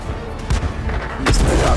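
A Birch Gun fires in a tank video game, a loud booming cannon shot with rumbling blast and a second heavy report after a short gap, close and dominant.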